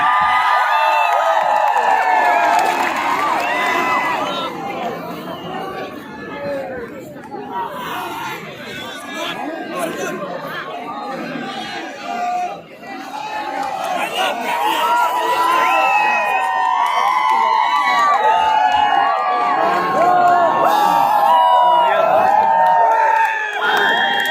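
A stage event audience in Haflong, Dima Hasao, cheers and shouts in a loud, continuous roar of whoops and chatter, with a brief dip midway before swelling again.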